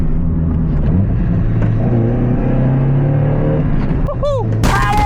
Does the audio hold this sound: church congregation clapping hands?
no